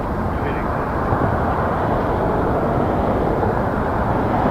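A Porter Airlines airliner departs Toronto Pearson airport, bound for Vancouver. It makes a continuous, broad, rumbling roar that stays loud and steady throughout.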